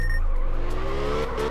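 A car slides sideways in the drifting game Absolute Drift, its engine droning loudly and steadily, with the pitch sweeping upward in a tire-squeal whine.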